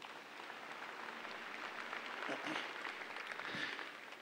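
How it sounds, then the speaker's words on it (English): Audience applause fills the arena at an international Holstein show, soft and distant, a steady patter of clapping that swells slightly midway through. "Let's give them one more round of applause."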